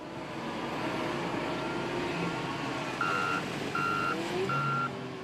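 A custom-built waste service truck that empties store dumpsters gives three evenly spaced reversing beeps over a low engine rumble, clear and close.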